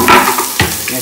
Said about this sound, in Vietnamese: Nghe xèo xèo lắm đúng không các bạn?